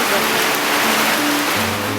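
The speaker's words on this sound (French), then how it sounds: "là, il pleut, là, mais tropical" Steady tropical rain pours in Hawaii, a dense, loud, unbroken hiss of falling water with a low hum underneath and no clear voices.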